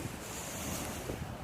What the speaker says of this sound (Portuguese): só o som do mar mesmo